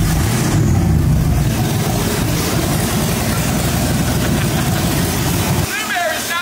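Supercharged 1965 Ford Mustang V8 with open headers idling loud and rough at close range, a steady heavy low rumble that drops away abruptly near the end, with people talking over it.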